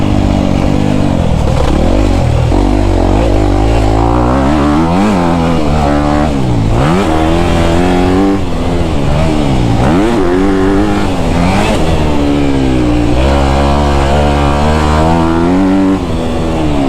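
A 2024 Honda CRF250R dirt bike is ridden hard, its engine loud and close, revving up and down in repeated surging waves as the rider shifts and throttles, with no talk.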